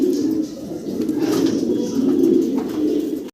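Large magpie pouter pigeons kept in cages coo steadily in low, throaty rolling murmurs. The cooing continues for several seconds at close range, with faint chirps around it.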